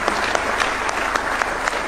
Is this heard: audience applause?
yes